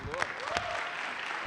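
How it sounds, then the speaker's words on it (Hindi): A short burst of audience clapping at a Christian TV show rises and fades quickly, moderately loud and brief. "जोरदार तालियां, जोरदार।"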